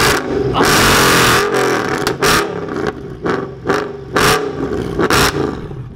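A C63 AMG engine revs hard nearby, loud roaring bursts that climb and drop several times in quick succession, with the exhaust note rising and falling in surges.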